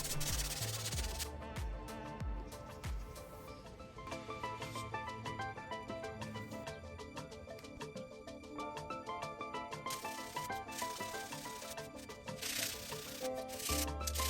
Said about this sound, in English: that way I don't remove too much material with the orbital sander